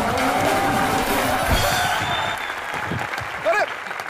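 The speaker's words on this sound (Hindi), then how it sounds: "जोरदार तालियां इनके लिए" Studio audience at a comedy show bursts into loud, sustained applause and cheering, with voices talking over the clapping near the end.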